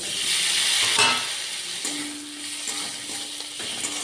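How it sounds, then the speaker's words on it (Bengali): Onion and tomato fry in a pan with a bright crackling sizzle, loudest early and easing after a second, with stirring scrapes and a faint tonal hum underneath. "এই দেখুন পেঁয়াজটা লাল লাল করে ভাজা হয়ে যাবে, এবার এর উপরে টমেটোটা দিয়ে দেবো।"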